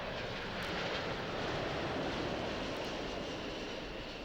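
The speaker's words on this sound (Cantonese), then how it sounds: "飛機飛越呢一帶上空，同民居相距最低嘅高度，大約只有250尺。" A passenger airplane passes low over crowded Kowloon City housing, about 250 feet above the rooftops, its engines a loud, steady, broadband roar that holds evenly from start to finish with no voices.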